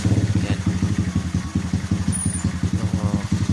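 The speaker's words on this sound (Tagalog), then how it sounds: "After ng mga ilang kick, paandarin na natin siya." A Kawasaki Barako 175 motorcycle engine idles after starting, a steady, close, rhythmic low putter with regular thumping pulses throughout.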